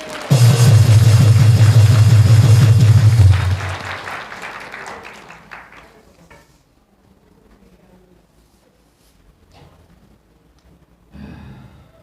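An audience at a rally bursts into loud sustained applause that fades away over a few seconds, leaving quiet room noise and a brief later murmur.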